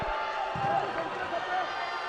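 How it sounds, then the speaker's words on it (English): An arena soccer crowd at the OG&E Coliseum boos in a steady, sustained roar during a Mexico versus USA match, while a commentator speaks over the noise. "A lot of boo birds flying in the OG&E Coliseum."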